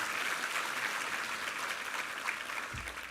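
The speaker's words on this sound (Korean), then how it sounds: "한번 우리 힘찬 박수 부탁합니다" A church congregation at a Sunday worship service applauds the choir, a soft, even patter of many hands clapping at a distance, sustained without pause.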